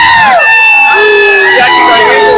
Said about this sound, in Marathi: या ठिकाणी अनेक कार्यकर्त्यांचा जल्लोष हा होताना दिसत आहे